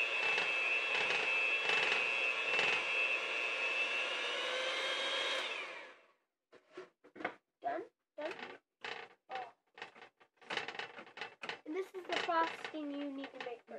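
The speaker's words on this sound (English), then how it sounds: "This is gonna be really loud, just saying. You need a mixer." An electric hand mixer whirs loudly for several seconds while mixing brownie batter or frosting in a medium bowl, then stops, followed by bursts of nearby talking.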